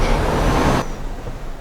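Truck engine in Euro Truck Simulator revving up as it accelerates, a loud broadband roar that cuts off abruptly partway through, leaving a quieter low rumble.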